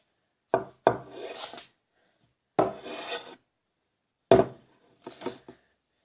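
A knife cuts meat on a table in a few separate strokes, each a short scraping rasp with knocks against the surface, with quiet gaps between the strokes.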